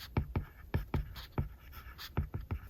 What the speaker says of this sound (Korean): 먼저 힐링쉴드부터 필기를 해볼게요.